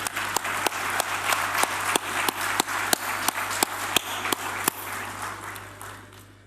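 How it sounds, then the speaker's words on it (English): A summit audience of business executives gives sustained applause, with steady rhythmic clapping that is loud and fills the room before tapering off at the end. "I was ready to clap for the CD, but no one else clapped, so we can do that now"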